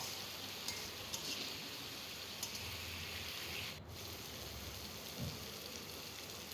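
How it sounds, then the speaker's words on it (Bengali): Spice paste and potatoes are stirred in a pan for a koi fish curry, a steady soft sizzling hiss with faint scraping, heard close and alone. "এবার ভালো করে মশলাটা আমি আলুর সাথে সাথে আমি নেড়ে নিচ্ছি"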